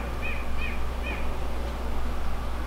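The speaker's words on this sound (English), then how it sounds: "It's like the first bird I've heard" A bird calls three times in quick succession, short whistled notes over a steady low hum, fairly distant and then quiet.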